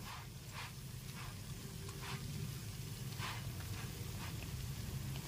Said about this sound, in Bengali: খুব ভালো মতো পরোটার সাথে ভেজে নিচ্ছি, এপিটোপিট করে ভেজে নিচ্ছি।